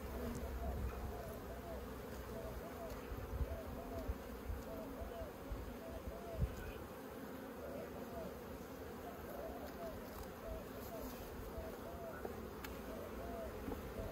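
Honey bees on a brood-filled hive frame give a steady, close buzzing drone that holds throughout, with a brief knock partway in.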